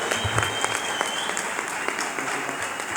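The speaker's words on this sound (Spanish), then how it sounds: "le damos un aplauso al Señor por Bolivia." Applause from a church congregation fills the space, a steady dense clatter of many hands clapping throughout, fairly close and without talk over it.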